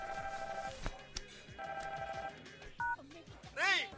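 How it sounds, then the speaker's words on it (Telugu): A telephone rings in a film scene, repeated electronic bursts of ringing broken up by background sounds, moderately quiet overall. "ఫోన్ రింగ్ అవుతోంది"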